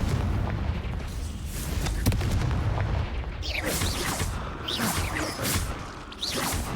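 Incendio and Confringo spells cast during target practice in a Harry Potter video game, heard as a run of booming fiery blasts and whooshing bursts, loud and close, following one another over several seconds with no talking.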